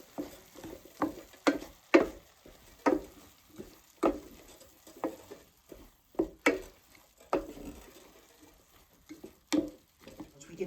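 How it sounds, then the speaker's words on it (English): Spoon stirring cumin and oregano into a stuffed pepper filling in a pan, with a steady series of soft scraping, pattering strokes at a brisk, fairly even rhythm, close and fairly quiet. "We're going to mix all that up."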